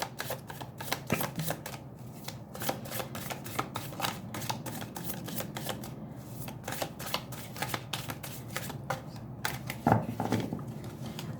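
A tarot card deck is shuffled by hand in a long series of quick, crisp riffles and flicks, close and fairly quiet, with no talking.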